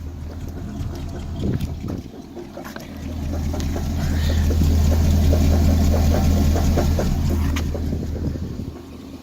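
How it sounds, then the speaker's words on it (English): A car with an LS2 engine idles with a low, steady rumble, punctuated by a loose exhaust clanking and rattling underneath. "that's the exhaust clanking around"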